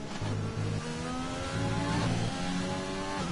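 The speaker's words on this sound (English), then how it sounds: "Very much stuttering on those downshifts of the car." Formula 3 race car engine in a sim racing game on the Belgian circuit, revs rising and dropping unevenly as it stutters through downshifts; close, steady engine whine with no talking.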